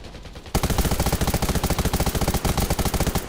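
Rapid automatic gunfire in the online survival shooter Undawn, a dense, loud, steady burst of shots that starts abruptly after a brief quiet moment and hammers on without pause.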